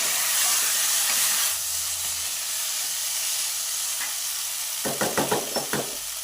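Potatoes hitting hot oil in a pan for potato curry, a steady loud sizzle and hiss that softens, then a few quick scraping stirs near the end.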